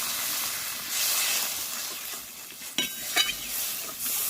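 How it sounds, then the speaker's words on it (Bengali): A cumin-paste masala for egg and raw banana kofta curry sizzles and bubbles in the pan after water is poured in, a steady hiss broken by a couple of sharp stirring knocks, with no voices. "তো ঝোলটা ফুটতে শুরু করেছে"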